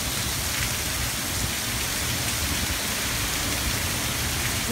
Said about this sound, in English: We are getting some rain.